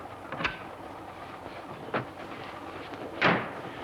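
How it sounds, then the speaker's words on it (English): Steady rumble of a moving train with occasional sharp clacks and knocks from the carriage, heard from inside. "You must stop this train."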